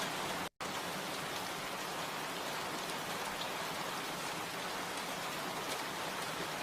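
Steady rain falls at night in a village during a storm, a dense, even hiss of drops on surfaces that stays constant throughout, broken only by one tiny gap of silence near the start.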